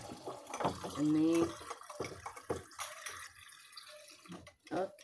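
Cold water is poured and trickles into a container in short splashy bursts, with someone talking over and between the pours.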